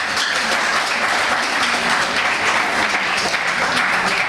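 A crowd at a youth employment event breaks into dense, sustained applause, loud and even throughout with no break and no voices over it.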